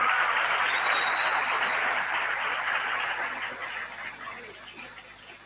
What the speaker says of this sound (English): they would like to make a round of applause to you all in gratitude